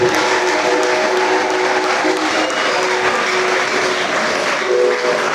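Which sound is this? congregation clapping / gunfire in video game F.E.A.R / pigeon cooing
congregation clapping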